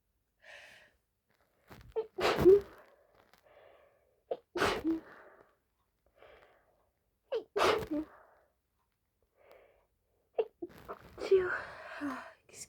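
A stifled sneezing fit, several muffled sneezes in a row at steady intervals, close and fairly loud with quiet breathing between them.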